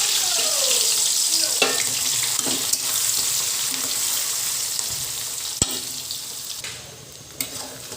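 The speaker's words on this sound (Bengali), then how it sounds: "ওই তেলের মধ্যে পেঁয়াজ ভেজে দিয়ে দিলাম।" Onions fry in hot oil in a pan for a Bengali chicken kosha, giving a continuous close sizzle with scattered clicks and scrapes of stirring, fairly loud and unbroken, with no speech over it.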